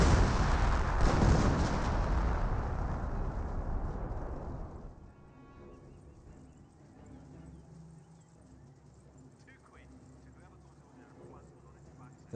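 A heavy artillery barrage rumbles loudly in the World War II strategy game Company of Heroes, booming densely for several seconds before dropping to a faint distant murmur, with a voice talking over it.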